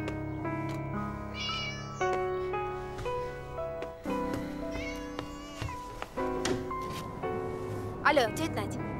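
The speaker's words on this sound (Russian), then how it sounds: "Только я с кошкой." A cat meows several times in a film scene, its cries rising over a busy mix of voices and music.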